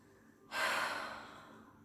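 A single slow, deep breath drawn during a gentle at-home workout wind-down, soft and airy, swelling quickly then fading gradually, close to the mic with no talking.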